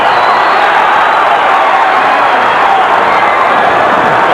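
A loud boxing arena crowd roars and cheers continuously during a heavyweight bout between George Foreman and Michael Moorer, a dense, unbroken wash of noise.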